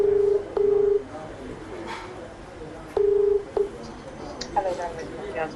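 A phone call to a Delhi hospital rings out as paired ringback beeps, repeated twice with a pause between, over a noisy line, followed by a voice answering faintly.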